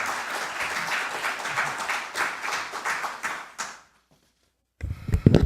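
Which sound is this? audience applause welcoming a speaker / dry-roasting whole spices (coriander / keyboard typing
audience applause welcoming a speaker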